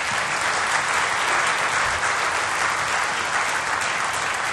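Steady, dense applause from an audience at a tribute event, continuous and even for several seconds with no voices standing out.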